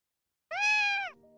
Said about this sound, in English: Carlo welcomed us in the salon with an adorable meow.